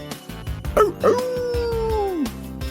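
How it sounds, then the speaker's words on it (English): A dog in a Mug Root Beer advert yips sharply a couple of times, then lets out a long, loud howl that slides downward and fades, close and clear over a faint backing bed. "The sound of the dog."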